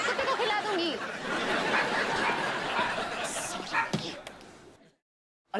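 A dog barks in a lively household, its barks mixed under overlapping talk and laughter, followed by a sharp slam and then an abrupt silence.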